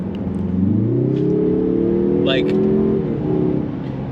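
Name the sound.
2024 Mazda 3 Turbo engine accelerating in sport mode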